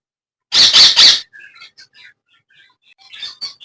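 A pet parakeet being teased lets out a loud, harsh triple squawk, followed by scattered faint chirps and small calls.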